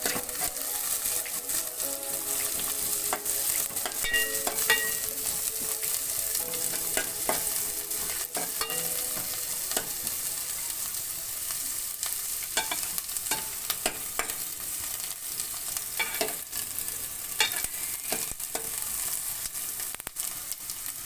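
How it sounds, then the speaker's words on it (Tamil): Ginger and garlic sauté in a hot pan for Kerala-style fish curry, giving a steady close sizzle broken by frequent scraping stirs, with no talking. "இந்த இஞ்சி பூண்டோட பச்சை ஸ்மெல் போகிற வரைக்கும் நம்ம நல்லா இதை வதக்கிட்டு போகிறோம்."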